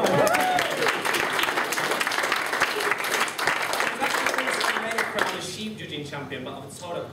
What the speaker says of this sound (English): Please give him a round of applause in his own right.